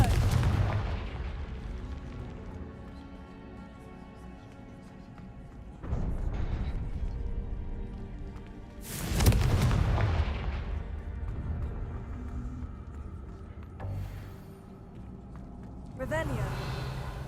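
Confringo spell blasts in Hogwarts Legacy, several booming bursts spaced a few seconds apart, each rising to a loud whooshing impact and fading, with a voice calling spells between them.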